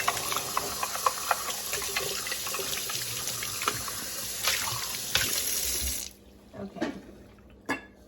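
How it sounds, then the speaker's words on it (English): A tap runs steadily into a sink while a juicer cup is rinsed out, a loud continuous splashing rush for about six seconds that then stops, followed by a few brief knocks and a short spoken word. "And then wash this cup out."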